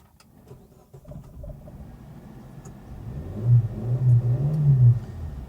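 A 2012 Suzuki Alto VXR with a 1000cc engine starts up, a quiet low rumble building into a louder, uneven idle that swells near the end, heard close with no talk.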